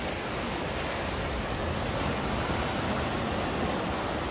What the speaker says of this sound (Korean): 오늘은 파도가 많이 높습니다